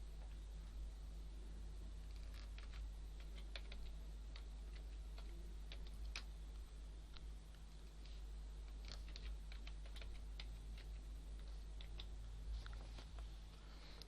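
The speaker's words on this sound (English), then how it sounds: "Now that I have typed the password" Steady, fairly quiet keyboard typing entering a password on a computer, a run of separate key clicks at an uneven rhythm over a constant low hum, with no talking.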